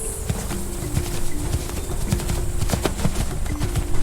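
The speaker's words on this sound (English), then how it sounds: "It's a horse!" Horse hooves clip-clop in a quick, steady rhythm of close, distinct knocks, joined by a faint steady hum and a little light background noise.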